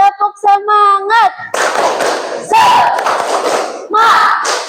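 A school class claps rhythmically and shouts a loud group chant as a spirit-clapping ice-breaker, with a teacher's voice leading first and then bursts of unison clapping and shouting from the students.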